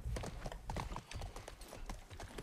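Horse hooves clip-clop at a steady walk in The Last of Us Part 1 on PS5, a close, regular rhythm of soft hoof thuds over faint background ambience.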